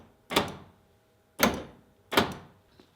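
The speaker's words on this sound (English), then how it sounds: "The door doesn't have any problems closing, I'll show you that." Three solid truck door slams on a 1980-1996 Ford Bronco, evenly spaced about a second apart, each a loud close thump with a short tail, no talking.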